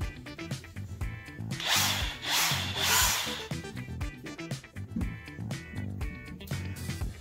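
A DeWALT cordless impact wrench runs close up in short, loud bursts, its whirring hammer rising and falling several times with clicks and handling noise between pulls of the trigger.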